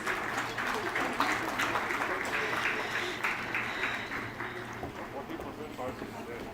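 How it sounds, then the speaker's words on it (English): A large audience at a national leadership conclave in India applauds to welcome speakers onto the stage, a steady, dense round of clapping that holds fairly even throughout and eases slightly near the end. "May I request you to please welcome them on stage with a huge round of applause."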